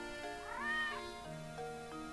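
A synthesized cat in the game Professor Layton and the Curious Village meows with a rising, bending pitch, followed by a couple of shorter mews over a steady electronic background tone.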